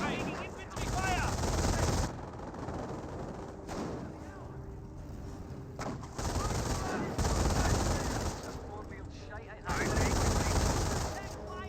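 Machine gun and infantry rifle fire from a Company of Heroes match, with loud bursts separated by brief lulls and battle ambience running underneath.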